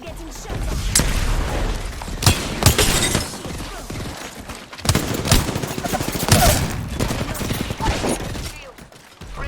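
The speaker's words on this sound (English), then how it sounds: "I'm getting shot." Rapid gunfire bursts from Apex Legends, loud, layered volleys with booms and crackling impacts repeating across the fight, interrupted by brief lulls and mixed with game effects.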